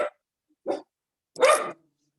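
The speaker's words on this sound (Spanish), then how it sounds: "Déjeme callar a mi perro, permítame." A dog barks three times in short, separate bursts, fairly close and loud, with silence between the barks and no talk over them.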